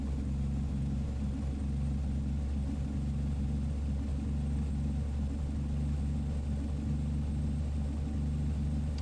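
Straight-piped Cummins X15 truck engine in American Truck Simulator, a deep steady idle-like rumble with a low droning throb, continuous and fairly quiet with no talk.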